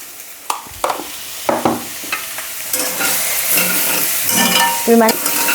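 Chicken seasoned with pepper and salt fries in a pan for creamy chicken pasta, a close sizzle broken by several sharp scrapes and clacks of a utensil stirring the pieces.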